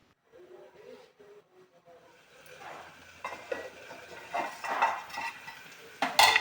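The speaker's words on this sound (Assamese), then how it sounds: "এতিয়া মই ঢাকোন দিম আৰু ঢাকোন দি পেলাই অকণমান সময় উতলিবলৈ দিম তৰকাৰীখিনি" A lid goes onto a cooking pot of fish curry with manimuni greens, set to simmer: soft scraping and handling noises build to a bright metallic clink near the end, over a faint background hiss.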